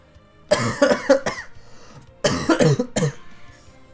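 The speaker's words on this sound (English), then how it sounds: "My coughing is progressing." Two bursts of harsh, close coughing from a man during a Pokemon Let's Go Pikachu live stream, each a quick cluster of three or four coughs separated by a short pause.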